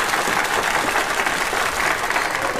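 An audience gives a contest winner dense, sustained applause, loud and even throughout, with no pauses.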